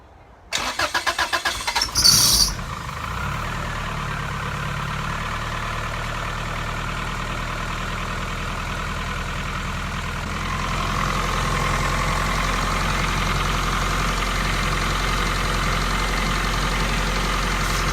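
A car with a turbocharged Honda B-series engine cranks briefly, fires into a cold start, then settles into a steady loud idle that rises a little in pitch partway through, with no talk.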